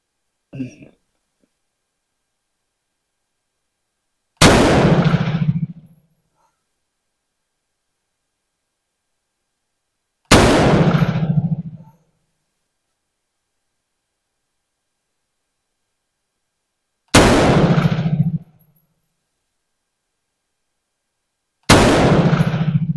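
Four loud, widely spaced rifle shots ring out from an M4 being sighted in at a range, each a sharp crack with a short decaying echo, separated by silence.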